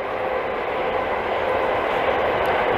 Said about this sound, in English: Sorry for the train noise.